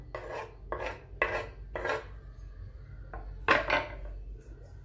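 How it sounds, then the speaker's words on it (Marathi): Grated coconut being roasted in a little oil on a griddle, with repeated scraping and stirring strokes of a spatula against the metal pan, rhythmic bursts close up and fairly loud, no voices. "छान थोडंसं तेल टाकून असं मी खोबरं भाजून घेणार आहे"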